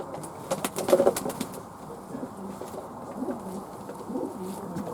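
Fantail doves coo softly in low, repeated murmurs, with a brief flurry of wing flaps near the start, and no voices.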